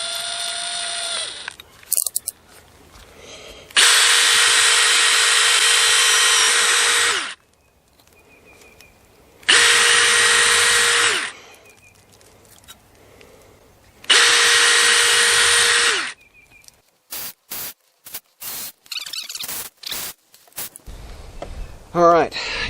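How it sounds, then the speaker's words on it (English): A power drill with a bit bores into an old axe head to clear out the broken handle, whining loudly in three bursts of several seconds each, followed by short rapid triggers and brief speech between runs. "That's still a really nice drill bit though."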